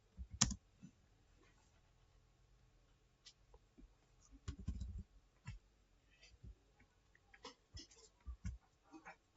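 Scattered clicks and taps of typing on a computer keyboard during filter-design lab work, irregular and fairly close, with a few louder thumps and occasional faint speech sounds.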